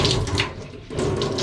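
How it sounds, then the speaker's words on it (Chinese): Tap water runs steadily into a sink while a handkerchief is rinsed and washed under it, the splashing strong and continuous with a brief softer dip midway. "我把你的手帕投一投，洗一洗，拿去。"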